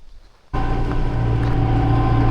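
A tractor engine starts up abruptly and keeps running, a loud steady close diesel drone with a constant low rumble, heading out to a hay field.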